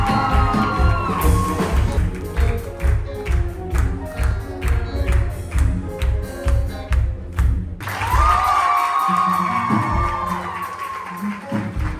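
An audience claps loudly in a long, steady patter of applause. A few brief shouts and a loud voice rise over it near the end.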